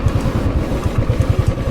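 A motorbike idles on a slope at Magnetic Hill near Leh. Its engine putters with a steady, close, low chugging rhythm, alone without talk.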